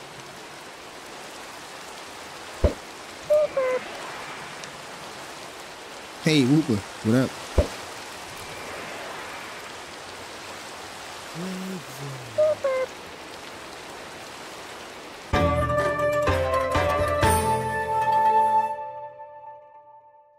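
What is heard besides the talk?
rain falling in a video game (Minecraft Pixelmon)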